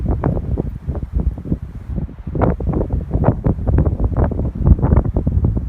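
Strong wind blowing outdoors at Pilot Knob, heavy gusty buffeting against the microphone in continuous loud surges with rustling branches underneath, no talking.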